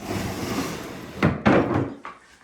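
A wooden desk drawer slides shut indoors in an apartment, giving a short scraping slide followed by a couple of close, solid thumps and a lighter knock as it settles.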